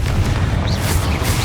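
A Confringo blasting spell in Hogwarts Legacy lets out a loud, continuous booming rumble with heavy low-end roar, sustained throughout, with faint whooshing spell sounds on top and no talking.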